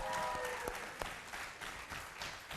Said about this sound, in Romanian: Aplauze, vă rog frumos, pentru un cuplu superb în muzică.